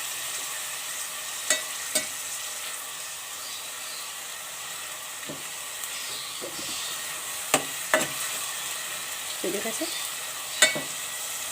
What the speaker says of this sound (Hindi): अब 1 से 2 मिनट हम इसे भूनेंगे।